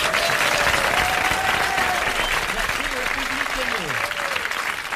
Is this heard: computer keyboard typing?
no